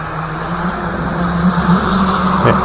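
Thunder Tiger OBS jr RC boat motor running at about quarter throttle, a steady buzzing whine close by, rising slightly in pitch and loudness toward the end, with water noise beneath it.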